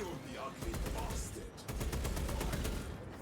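Occulus bolt carbine firing in Space Marine 2, a dense run of rapid, loud shots layered with battle noise, with a brief pause near the middle before the fire resumes.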